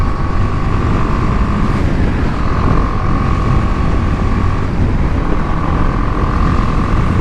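A BMW G 310 GS motorcycle rides in third gear, its steady engine drone loud and close with a continuous low rumble and a sustained tonal hum, under constant wind noise.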